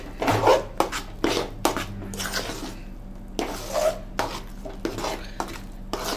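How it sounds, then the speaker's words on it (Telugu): Bobbatlu sweet filling flavored with cardamom powder stirred in a pot as it thickens, a spoon scraping and knocking the sides in repeated strokes, close and clear, with a faint low hum underneath. "కలుపుతూ ఉండండి, లేదంటే అడుగంటుకుంటుంది."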